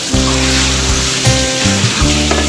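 Beef hits hot oil with a loud, continuous sizzle, a dense frying hiss over a low steady hum close by.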